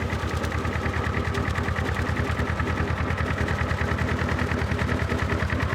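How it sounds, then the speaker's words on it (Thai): A two-cylinder engine powering a lawn mower attachment runs at a steady idle without revving, a rapid even chugging pulse that stays loud and constant with no talk. "เครื่องยนต์แค่2สูบเองนะครับ"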